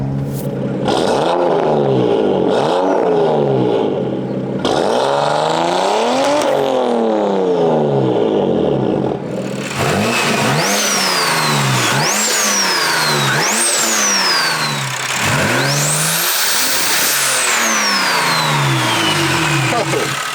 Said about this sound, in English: Rev it for me, rev it!